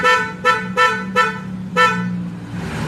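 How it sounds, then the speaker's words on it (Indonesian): Aftermarket GMA horn fitted to a new Yamaha NMAX scooter, with five sharp, loud, close beeps in an uneven rhythm, then a brief hiss. "ini klakson GMA"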